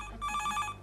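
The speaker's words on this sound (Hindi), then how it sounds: "फोन पे फोन, फोन पे फोन, फोन पे फोन।" An old-style telephone bell rings in a sitcom office scene, a steady electronic trill in a few quick bursts, fairly close and clear with no talk over it.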